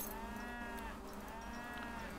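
Cattle mooing in Age of Empires 3, drawn-out lowing calls held over a steady background of game ambience, with no talking.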